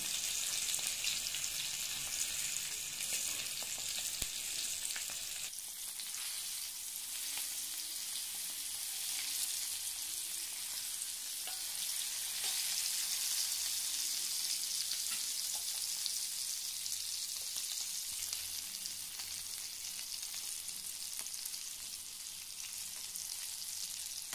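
Bangda mackerel fillets fry with a steady, dense sizzle in a pan, the crackle constant and close for the whole stretch, with a slight shift in texture partway through as the fish settles; no voices.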